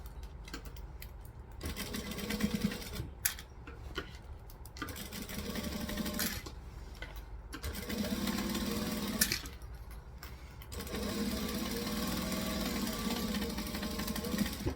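A sewing machine runs in several sustained bursts, back-stitching and stitching a seam with steady mechanical whirring and brief pauses between runs.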